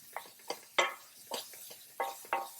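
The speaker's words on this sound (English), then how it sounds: "we're going to saute these for just a minute." Onions being sautéed in a pan for a tomato sauce, with a series of sharp scraping and stirring clatters of a utensil against the pan over a faint sizzle.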